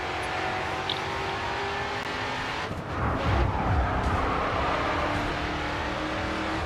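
Race cars in the GRiD 2 racing game roar past with steady engine drone, a surge of revving and tire skid midway, loud and continuous with no talk.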